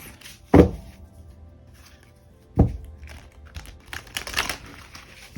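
Tarot cards being shuffled by hand: two sharp riffle-like bursts a couple of seconds apart, then a flurry of quicker papery flicks and taps, close and fairly loud.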